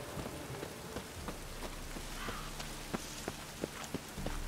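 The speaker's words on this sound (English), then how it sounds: "Ugh, the rain" Steady rain patters down across a Witcher 3 game world, a dense hiss of drops with scattered sharper splashes, close and even throughout, with no voices over it.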